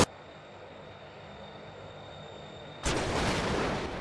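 A CIWS turret in BeamNG.Drive opens fire after a quiet stretch with a faint tone, bursting into a loud, dense, continuous rapid-fire roar that runs for more than a second without pause.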